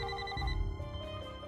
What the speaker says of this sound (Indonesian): Namun mendadak semua telepon yang ada di ruangan itu berdering bersamaan.